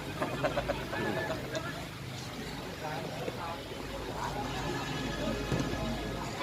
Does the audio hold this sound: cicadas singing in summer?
no